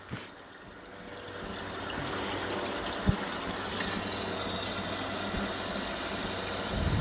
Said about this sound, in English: I will just let the water run in here, fill this up a little bit.